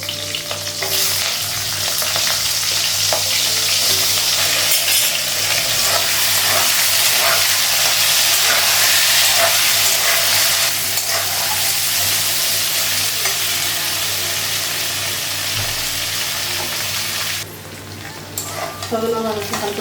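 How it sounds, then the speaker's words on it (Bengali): Drumsticks fry with panch phoron and green chilli in a hot pan, a loud continuous sizzle with stirring scrapes running throughout, easing off near the end; no speech. "সজনা ভালো হালকা ভেজে গেছে"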